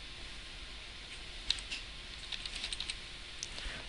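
Light keystrokes on a computer keyboard as a file name is typed, scattered quiet clicks in short bursts with a faint steady hum underneath and no talking.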